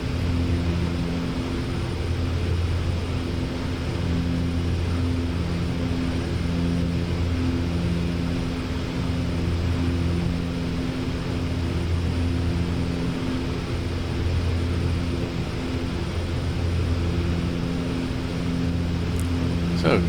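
An airplane engine drones steadily in a flight video game while the aircraft flies with its landing gear and flaps down, a constant even hum with no other sounds.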